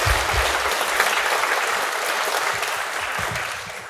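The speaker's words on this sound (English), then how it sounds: "I think we should give him a round of applause." A crowd at a primary school prizegiving claps steadily and warmly, the applause holding loud for a few seconds before gradually thinning out.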